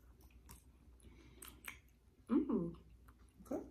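Faint, close mouth sounds of someone chewing a bite of sweet potato pie, soft squishy bites with a few louder moist crunches, alongside quiet murmured vocal sounds.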